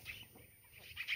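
Chickens cluck softly near a small backyard pond, a brief run of low, scattered clucks with a thin high chatter above, fairly quiet and without talk.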